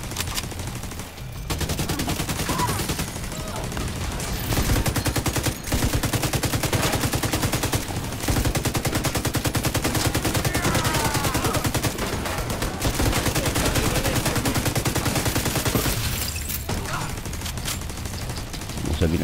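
Sustained automatic gunfire from The Division 2 rattles in long, loud bursts with brief pauses between volleys, and a voice is heard now and then beneath the shooting.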